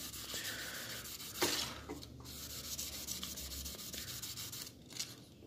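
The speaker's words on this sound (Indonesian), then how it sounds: "kita asah atau kita amplas menggunakan 2000 cw tadi" Steady dry rubbing of 2000 grit sandpaper across a razor blade being smoothed after rough filing, a continuous close scratching texture with a few brief louder strokes.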